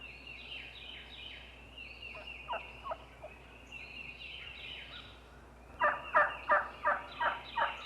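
A wild turkey gobbles in a series of about five loud, rapid rattling calls near the end, with fainter bird chirps and calls earlier.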